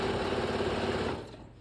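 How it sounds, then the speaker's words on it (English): A sewing machine stitches steadily around a curved quarter-inch seam on a Christmas gift bag, running close and continuous, then stopping abruptly partway through. "we're going to lay this down and sew around the curve on both sides"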